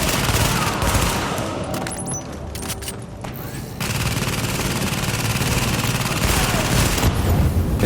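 Sustained automatic gunfire in The Division, a third-person shooter game, rattles in dense bursts, briefly thins mid-clip, then returns as loud continuous firing with a voice faintly present underneath.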